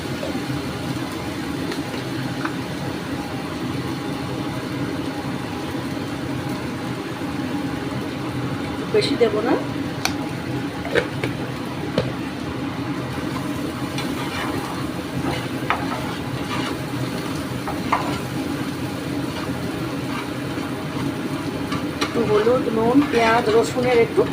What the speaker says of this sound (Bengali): একটু হলুদের সাথে নাড়ানাড়ি করছি নুন দেব